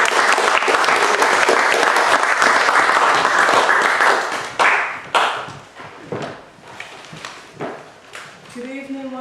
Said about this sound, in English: giving a very warm round of applause